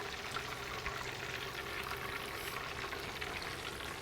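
Burgers cook in a pan of grease with a soft, steady frying hiss that runs evenly throughout at low volume.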